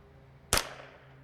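A single sharp crack from a Kidd 10/22 .22LR rifle firing Eley Tenex ammunition at an outdoor target, one abrupt, moderately loud report with a brief decaying tail against quiet background.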